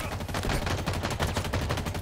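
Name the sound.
gunfire in the video game Halo Infinite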